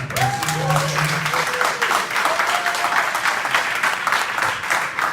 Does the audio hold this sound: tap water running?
no